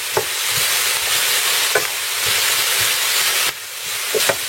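Chopped onion seasoned with herb pepper frying in a pan, a steady loud sizzle and hiss with repeated scraping clicks of a utensil stirring, the sizzle dropping briefly near the end.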